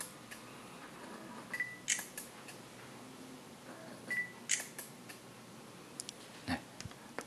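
Leica X2 compact camera shutter firing a single exposure at 1/10 second, heard as soft, close mechanical clicks separated by short pauses in a quiet room.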